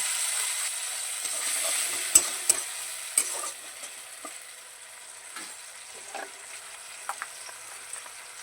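Ginger sizzles softly in a pan after a splash of water, a faint steady hiss broken by a few light scrapes and taps from stirring.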